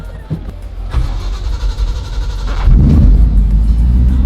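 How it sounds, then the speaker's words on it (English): An old car engine that hasn't run in a while cranks and catches near the end, settling into a loud, low rumbling idle after a brief mechanical whir. "Nice thing with old cars is that they start right up"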